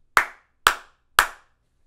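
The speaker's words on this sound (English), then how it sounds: "And clap three times." Three sharp, evenly spaced hand claps, close and loud in a quiet room, made to trigger a Clapper sound-activated switch.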